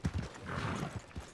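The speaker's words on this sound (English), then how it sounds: "my horse's name in Red Dead Online is Arthur" Horse hooves in Red Dead Redemption 2, a quick clip-clop rhythm of several close hoofbeats over a soft background hiss, heard without talk.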